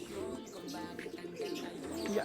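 Racing pigeons cooing at a loft as birds arrive, soft repeated coos with a few chirps running steadily throughout at moderate level.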